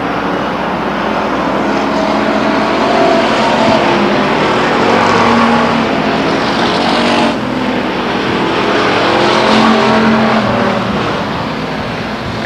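Pure stock race cars roar around Stockton 99 Speedway in a heat race, a loud continuous blend of several engines rising and falling as cars pass close by, with a sharp shift in pitch midway, and no talk over it.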